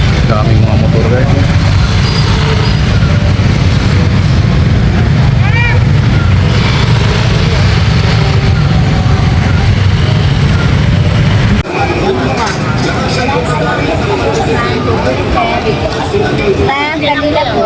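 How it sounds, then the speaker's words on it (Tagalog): Heavy street traffic thick with motorcycles outside Quiapo Church in Manila gives a loud, continuous engine drone and rumble, with a crowd babbling and people talking over it throughout. "Daming mga motor guys."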